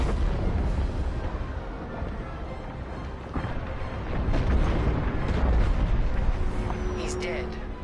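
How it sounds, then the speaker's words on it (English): Frigate exploding in the Star Wars Squadrons video game, a rolling, rumbling blast with crackling bursts building in loudness, heard under voices and game sounds. "The frigate is about to explode!"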